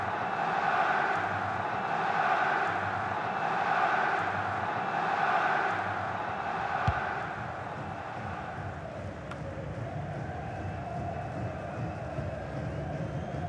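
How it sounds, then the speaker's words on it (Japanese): A stadium crowd in the FIFA 19 football video game roars for a substitution, a broad swelling wash of cheering that pulses for several seconds, then settles into a lower steady murmur. "ひときわ大きな歓声を受けていますね"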